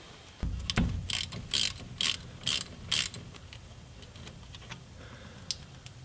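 A ratchet wrench works a 15 mm brake line fitting on a Jeep Cherokee, giving about five loud, close, rhythmic bursts of clicking. A few quieter clicks and mechanical rattles follow.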